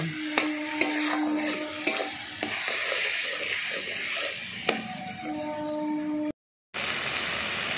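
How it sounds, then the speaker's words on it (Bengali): Spice paste with turmeric powder being stir-fried in a pan for a spicy prawn curry, a steady close sizzle broken by repeated scrapes and clacks of a spoon stirring, no talking. "এবার এই মশলার উপরে আন্দাজ মতো হলুদের গুঁড়ো দিয়ে দিলাম, দিয়ে মশলাটা ভালো করে কষিয়ে নিচ্ছি।"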